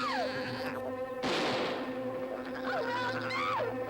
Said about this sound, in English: I haven't seen a wasp that big since the Nixon years.